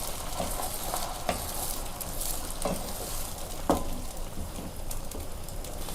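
Eggs fry in a hot pan for Indo-Chinese egg chilli, a steady close sizzle with scattered crackles and a few louder pops.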